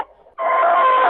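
A rooster crows among hens, heard through a phone line: a short muffled lead-in, then a loud sustained crow that fills the rest of the moment, with no talk over it.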